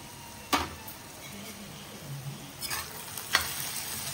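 Onions with ginger garlic paste cooking in a pan, a faint soft sizzle with a few clinks and scrapes of a stirring spoon.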